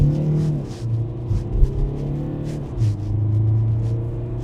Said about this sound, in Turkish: Mesela şöyle bir tam gaz verelim.